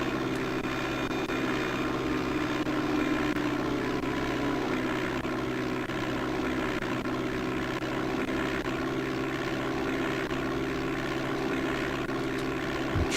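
Steady, loud drone of a propeller aircraft engine as the plane descends with flaps and gear lowered in Flight Simulator 5.1 on DOS, holding a constant hum throughout with no voices.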